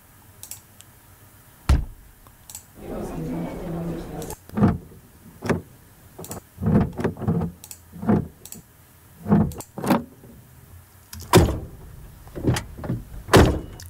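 A car door opens, closes and slams shut, with sharp metallic clunks and latch clicks spaced apart, plus a brief rattling passage, close and isolated.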